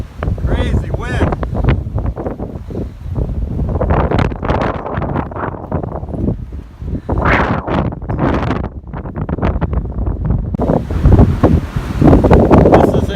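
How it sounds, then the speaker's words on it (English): Strong gusting wind buffets the microphone on an outdoor hiking trail, loud and continuous with rushing, roaring surges, while a person talks intermittently over it. "Crazy wind."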